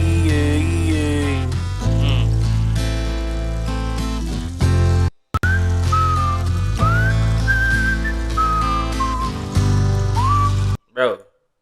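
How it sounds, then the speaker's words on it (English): A man whistles a melody into a microphone over a country-style song with singing and instruments. The whistled line sits clearly above the music in the second half, and the music briefly cuts out twice. "that whistling that he's doing inside of the mic, it goes perfect with the rhythm and the tune of the song"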